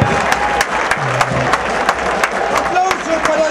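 Stadium crowd at a Temperley versus Defensores football match applauding, a steady wash of many hands clapping with sharp individual claps standing out, continuous through the moment and mixed with broadcast commentary.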